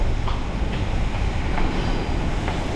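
A train passing at a railway station in Latvia on the Riga–Salaspils line, a loud continuous rumble and rush of rolling wagons with faint rhythmic wheel clicks, heard close with no talking.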